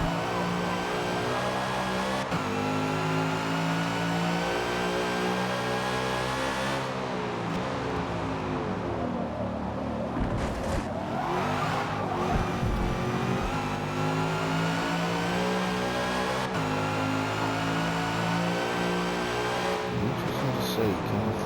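A Toyota Supra Gen 3 Supercar engine roars at full speed at Bathurst in the Forza racing game. The loud, continuous note climbs and drops through gear changes, with commentary faintly underneath.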